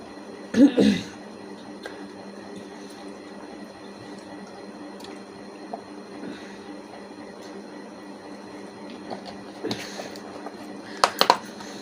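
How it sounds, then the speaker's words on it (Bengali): A person drinks water from a bottle late at night indoors, with faint sips, gulps and liquid movement, a couple of louder bursts near the start and end, against a quiet steady room hum. "তো এখন একটু জল খাই"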